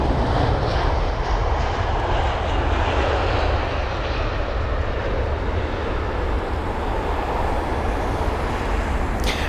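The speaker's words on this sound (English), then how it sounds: "we have TAP Air Portugal and their A320neo" A TAP Air Portugal Airbus A320neo at London Heathrow gives a steady, loud, broadband engine roar that holds for the whole stretch with little change, no voices over it.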